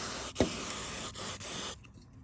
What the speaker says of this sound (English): Hitting it with a little cleaner.